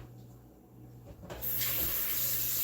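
Tap water starts abruptly and runs hard over a spoon in a kitchen sink, a loud close steady splashing rush after a short quiet start.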